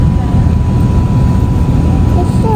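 A jet airliner's cabin fills with a loud, steady low roar during landing, a constant heavy rumble close around the listener.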